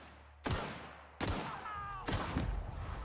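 Gunfire in The Outer Worlds video game: three sharp shots ring out about a second apart, each with a short, crackling decay, fairly quiet overall.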